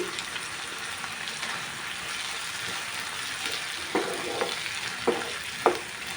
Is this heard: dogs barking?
no